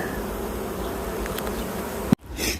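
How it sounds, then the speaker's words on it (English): Dense buzzing of many bees being brushed off a frame back into the hive fills the air continuously, close and steady, ending with a sudden thump and muffled rustle. "brush the bees off, back into the hive"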